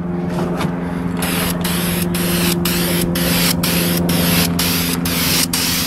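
Spray gun coating a car's side mirror part, a steady close hiss running throughout with rhythmic short bursts and pulses as each pass is laid on, no talking.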